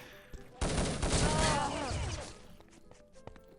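Sharp burst of gunfire in a competitive team shooter match, a loud crack with a ringing tail that fades over a couple of seconds, with faint crackles afterward.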